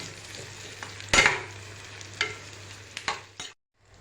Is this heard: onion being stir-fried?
yes